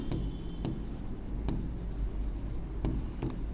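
A pen scratching across paper while drawing a number line for a maths problem, soft and close, with a few sharper taps and strokes over a low steady background hum.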